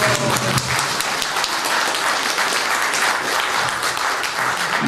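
An audience applauds at an indoor talk, dense steady clapping that stays loud and unbroken throughout, with no speech over it.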